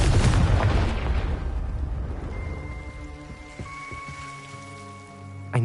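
A Confringo blasting spell going off in Hogwarts Legacy: a loud, booming explosion at the start that decays into a crackling, rain-like fizzle, followed by faint tonal chimes and a small thump near the end.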